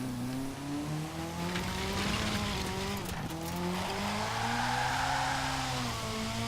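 A Lego Ferrari F40 engine in Forza Horizon 4 revs hard and continuously, its pitch rising and falling with gear changes, with tire squeal mixed in.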